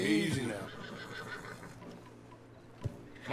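A horse in the Red Dead Redemption 2 video game lets out a loud, close whinny at the start, then fades into a low background rumble with a single faint knock near the end.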